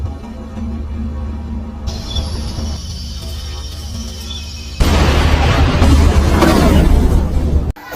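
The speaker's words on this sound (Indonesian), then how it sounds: "Film berpindah diperlihatkan ledakan yang begitu dahsyat" A huge explosion in an action film erupts partway through a tense score, a loud, dense roaring blast that stays thick and sustained to the end.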